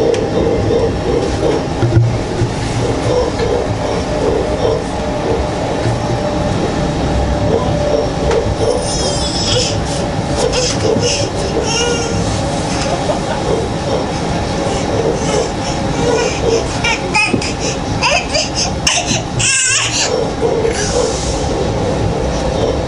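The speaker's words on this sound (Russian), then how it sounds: "наш поезд прибывает на станцию Куликова" Passenger train pulling into Kulikovo station, a steady rumble with clickety-clack wheel rhythm and rising squeals of wheels braking, loud and close throughout without talk.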